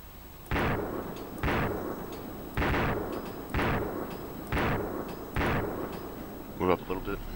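Gunfire in a tactical shooter game, six heavy booming shots at roughly one-second intervals, each with a rolling tail, then a quick cluster of sharper cracks at the end.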